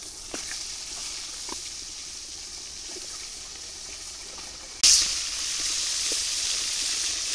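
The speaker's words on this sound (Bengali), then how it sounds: "তেল গরম হয়ে গেছে, এখন আমি মাছগুলো এক এক করে দিয়ে দেবো।" Fish pieces frying in hot oil, a constant soft sizzle with faint pops, jumping louder midway as another piece hits the oil and then holding a fuller hiss.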